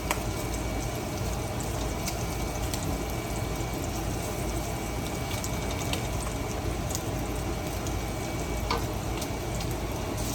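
Onions frying in a pan, giving a steady, dense sizzle that holds evenly throughout at moderate loudness, with a few faint clicks on top.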